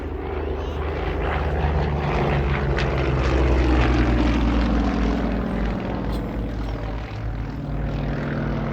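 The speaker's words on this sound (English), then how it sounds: "Nice vertical climb there, using every bit of that 360 horsepower" A Yak-52 aerobatic plane with a 360-horsepower radial engine and wooden propeller roars loudly and continuously through a vertical climb, its engine note slowly shifting.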